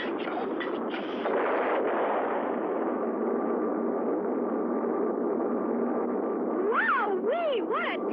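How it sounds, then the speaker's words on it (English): A cartoon rocket blasts off with a long, loud roaring rumble, followed by warbling, rising and falling whistling tones near the end. "Wowee! What a takeoff!"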